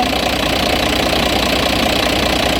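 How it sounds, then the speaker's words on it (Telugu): A loud Bharat Benz 14-tyre lorry diesel engine, about 7 lakh driven, runs steadily at idle, a constant rough rumble with faint knocking, close by and alone. "చూడండి, మనకి ఇంజన్ యొక్క నాయిస్ మారిపోయింది. చూసా ఇంజన్ సౌండ్ ఎట్లా ఉంది ఇప్పుడు?"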